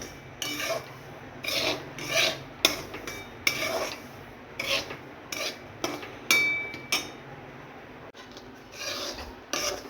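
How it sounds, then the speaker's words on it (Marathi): Dry semolina is stirred and roasted in a pan for a simple barfi, with a spoon scraping the pan in repeated rasping strokes, close and fairly quiet. "हलवत हलवत भाजून घ्यायचं"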